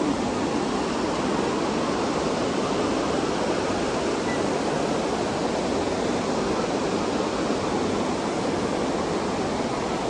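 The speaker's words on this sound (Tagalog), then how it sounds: "nakikita nyo na yung falls. Nag-iba yung niya, no, agos niya." Wawadam falls in Rodriguez, Rizal pours as a dense, continuous roar of rushing water, loud and close with no break and no voices.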